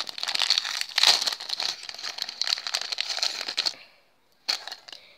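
Plastic packaging holding keychains is crinkled and torn open close by, a busy run of crackling rustles that stops abruptly near the end, followed by one brief final crinkle.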